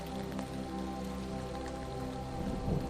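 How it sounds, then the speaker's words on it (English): Steady rain falling as a sound effect beneath horror story narration, a continuous soft patter of drops on a surface, even and fairly quiet throughout with no voice present. "Large raindrops began to fall on his face as lightning blazed across the sky."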